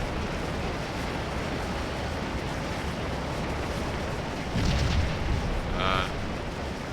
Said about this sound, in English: we'll let our artillery do some of the work here